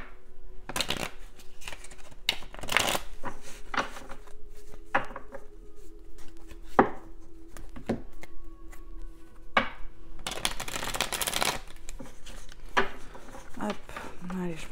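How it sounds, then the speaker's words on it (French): Tarot cards shuffled by hand, giving repeated brisk riffling bursts and soft slaps at irregular intervals, close up, while someone talks between and over them. "Je parle, je suis pressée de les débouléguer les cartes, mais il faut les mélanger quand même."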